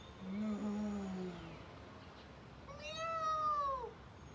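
A preschool yoga teacher's voice imitates a cat's meow with two drawn-out, sing-song calls, each rising and then falling, in a quiet room.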